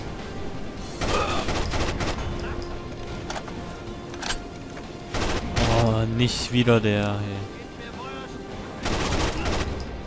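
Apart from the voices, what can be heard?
gunfire in video game Rainbow Six Vegas 2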